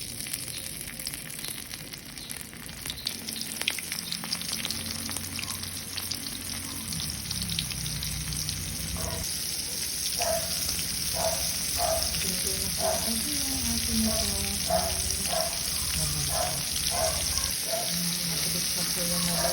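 Battered shrimp tempura drops into hot oil, giving a steady bright sizzle and crackle throughout, with a few clinks and bubbling pops midway; no one speaks.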